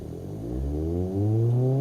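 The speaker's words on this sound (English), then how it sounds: "That's how bad this engine is. It is so bad it won't hold an idle." An Ibishu Hopper Classic's engine in BeamNG.drive struggles after a clutch pop in reverse, a low rough drone that swells and sags as it fails to hold idle, steady and close with no talk.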